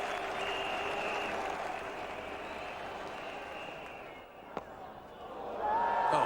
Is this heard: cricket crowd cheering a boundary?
yes